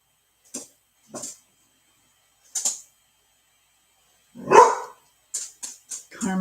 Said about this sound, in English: my dog is playing with my cat.